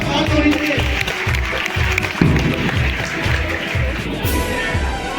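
A crowd at a school Independence Day event applauds an exercise team with loud, steady rhythmic clapping in unison, beats evenly spaced throughout.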